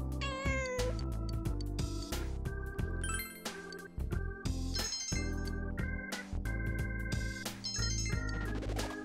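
A cat meows repeatedly in the video game Persona 4 Golden. The clear, close meows sit over a tinkling, chiming game melody that plays continuously.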